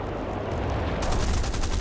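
A Spitfire LF Mk IX firing its guns at a BF-109G in War Thunder: a dense, continuous roar of engine and gunfire. Rapid cannon bursts sharpen and rattle in the second half.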